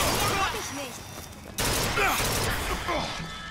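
Enemy gunfire rattles through a fight in the shooter game BioShock Infinite as a dense burst of shots with a sharp crack midway, mixed with game voices and clatter.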